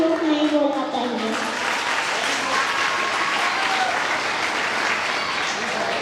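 An audience claps for a child who has just told a story, giving sustained, even applause. A voice speaks over the clapping at the start.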